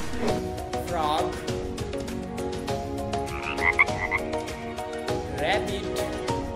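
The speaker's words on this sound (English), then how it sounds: "Frog." Frog croaks inside a busy children's animal-sound sequence, the calls rising as repeated rippling bursts over dense backing music and layered effects, loud and continuous throughout.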